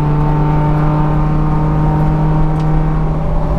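Spec Miata race car on the Daytona track, heard from inside the cockpit: a loud, steady engine drone with a strong constant pitch and road rumble as the car weaves to warm its tires.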